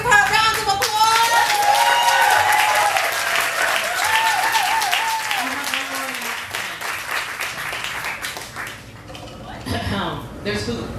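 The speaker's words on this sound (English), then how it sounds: "let's give her a round of applause." Audience clapping at a book release for the book "Unto Dogs", a steady round of applause that fades toward the end, with voices and cheers mixed in over the clapping.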